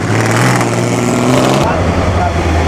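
A Ferrari competing in the Mille Miglia roars past, its engine loud and close with a rising then falling note that fades into a lower rumble, mixed with crowd noise.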